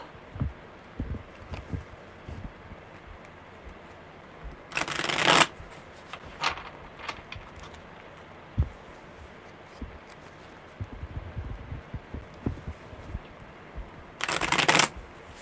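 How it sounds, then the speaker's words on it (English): Two crisp bursts of card shuffling stand out over quiet handling and soft taps, a riffle midway and another near the end. "one more good shuffle, my Jay."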